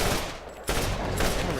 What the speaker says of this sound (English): Do you hear how many bullets I'm firing per second?